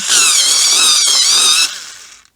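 An electric pencil sharpener grinds a colored pencil with a loud, high, steady whine for about a second and a half, then spins down and fades to silence.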